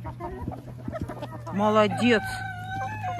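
Hens being fed and an Araucana-cross rooster give several bursts of clucking and short calls, the loudest and nearest around the middle, over a steady low hum, with a person briefly speaking.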